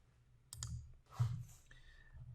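A few sharp computer mouse clicks sound close and quiet in a near-silent room, spaced irregularly with a soft rustle between them.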